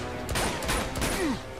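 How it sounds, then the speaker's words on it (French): Pistol gunfire in the video game Uncharted 2: Among Thieves, a few sharp shots in quick succession over loud, dense in-game action and explosions. "je suis obligé d'utiliser mon petit flingue tout pourri"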